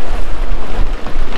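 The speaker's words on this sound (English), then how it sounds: "got waves coming from this side, swells coming from that side, swells coming from this side." Rough sea waves and swells surging against a jetty on the Galveston, Texas coast: a loud, continuous wash of churning water and wind buffeting the microphone, steady for the whole stretch with no voices.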